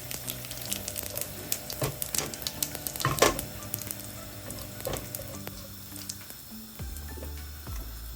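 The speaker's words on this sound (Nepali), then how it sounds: "यसरी मेथी पड्काउने, जिरा पनि पड्काउने।" Fenugreek and cumin seeds crackle in hot oil for a Nepali-style vegetable thukpa, quiet irregular pops and spits with a few sharper clicks and utensil sounds.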